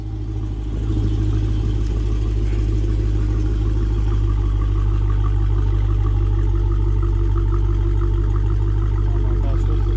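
A widebody Dodge Challenger's 6.2 liter V8 of nearly 500 horsepower rumbles steadily up close, a deep continuous engine tone with slight rises in pitch, loud and unbroken throughout.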